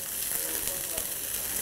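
Marinated meat (carne vinha d'alhos) searing in a very hot frying pan over high flame, giving a steady, dense sizzle and crackle that stays even throughout, close but fairly soft.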